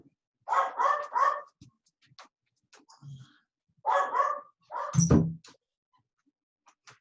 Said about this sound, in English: I hear the dog.